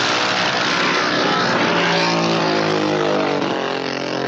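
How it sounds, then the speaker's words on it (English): A big 1700cc Harley-Davidson drag racing motorbike engine at a drag strip, roaring loud and close at sustained high revs throughout, with no talk over it. "To the line now with his big 1700cc Harley Davidson."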